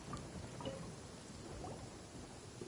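Thunderstorm in Genshin Impact's Inazuma region, a steady wash of rain noise with low rumbling thunder beneath, faint and continuous throughout with no distinct loud crack.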